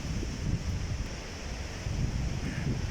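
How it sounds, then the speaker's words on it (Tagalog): Steady strong storm wind in Wales, United Kingdom roars and buffets the microphone, a constant rushing noise with no voices. "Lakas ng hangin."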